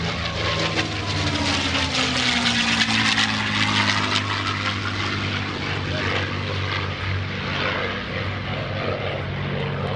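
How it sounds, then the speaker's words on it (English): A P-51 Mustang warbird passes at the Greenwood Lake airshow, its propeller engine a loud broad roar with a falling drone, steady throughout and close to the crowd. "From the right, here's the P-51."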